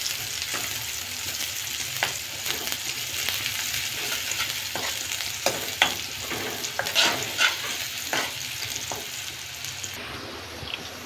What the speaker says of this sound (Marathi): आता आपलं तेल गरम झालंय, आपण त्यात कांदा टाकून घेणार आहोत। कांदा फ्राय होऊन घेणार आहोत।